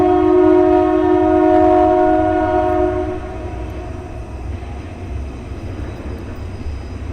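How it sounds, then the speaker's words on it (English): A loud train passes nearby, its horn blaring in sustained tones for about three seconds before giving way to the steady rumble and rattle of rolling cars. "Right in time for the train"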